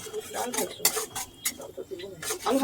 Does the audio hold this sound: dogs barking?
no